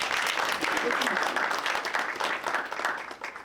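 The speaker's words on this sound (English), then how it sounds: "So let's give them a round of applause." An audience at a presidential portrait unveiling ceremony claps in a dense burst that begins to thin and fade toward the end, with faint voices mixed in.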